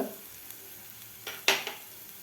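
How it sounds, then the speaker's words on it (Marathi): Garlic and chilli paste tempering in hot oil as asafoetida goes in, a low sizzle that flares briefly in a couple of quick bursts near the end. "लसूण आणि मिरचीचा ठेचासुद्धा व्यवस्थित परतून झालेला आहे यामध्ये घालायचं आपल्याला हिंग"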